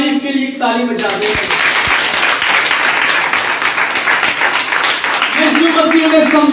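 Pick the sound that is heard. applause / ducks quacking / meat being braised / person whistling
applause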